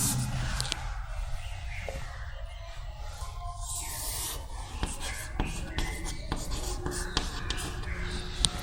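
Scratchy, intermittent strokes of writing on a board during a chemistry lecture on the modern periodic table, with short taps and rubs at close range in an otherwise quiet room.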